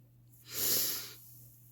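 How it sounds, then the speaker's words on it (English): A person draws one slow, deep breath, a soft airy swell rising and fading over about a second against a quiet background hum. "And I just want to take a breath."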